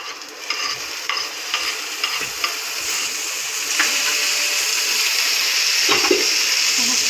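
Tomato sizzles and fries in a pan while being stirred for a potato curry, with scraping spoon strokes over a steady, close hiss that grows louder and fuller toward the end.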